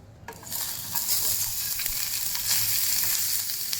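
Onions sizzle in a hot pan as they fry for a Maharashtrian sev bhaji, a steady close frying crackle with no voices.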